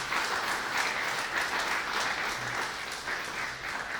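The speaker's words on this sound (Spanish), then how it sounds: "Apláudele fuerte." Loud, steady applause from a church congregation fills the whole stretch, dense clapping with no break and no talk over it.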